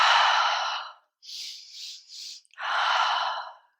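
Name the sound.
deep breath in during yoga breathing exercise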